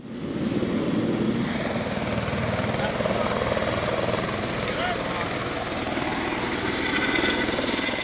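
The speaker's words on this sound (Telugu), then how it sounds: "ప్రతి ఒక్కళ్ళు తప్పకుండా ట్రై చేయాల్సిన రైడ్ ఒక హెలికాప్టర్ రైడ్ అని చెప్పచ్చు" A helicopter on a festival adventure ride in Vijayawada drones with a loud, continuous rotor and engine roar that stays steady throughout, heard close from aboard.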